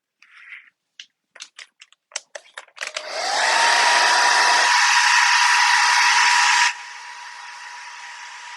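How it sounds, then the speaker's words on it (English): A blow dryer is switched on in a painting area, used to dry acrylic paint on a portrait, after a few short clicks and knocks. It gives a loud steady whooshing roar for several seconds, then drops to a lower, quieter setting. "It's always good to have a blow dryer in your painting area"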